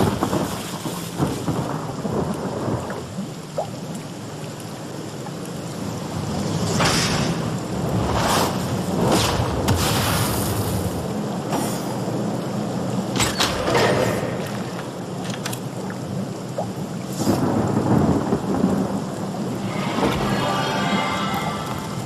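Video game thunderstorm in Divinity: Original Sin, with steady heavy rain hissing throughout and several loud rolling thunder cracks booming in bursts, no voices.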